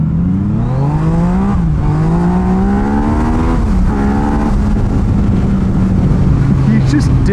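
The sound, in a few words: Yamaha MT-09 motorcycle accelerating hard, modified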